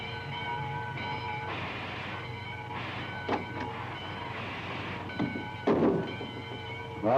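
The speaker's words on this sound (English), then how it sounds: "It's about time for the train to leave." A train pulls out of a station in a 1940 film serial, making a steady mechanical rumble with a sustained tonal whine. A few sharp clanks and knocks cut through near the end.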